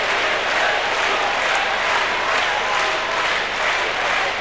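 Crowd applause rolls on at a pétanque world championship final from 1994, broad and even clapping from many spectators, fairly loud and continuous with slight swells.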